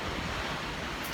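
Steady wind roars across the microphone outdoors on a breezy day, giving a dense, even rushing noise with no pauses or voices.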